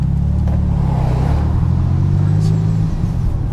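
A Porsche 911 (996) engine rumbles loud and close, accelerating in first gear with a steady deep drone that rises slightly in pitch.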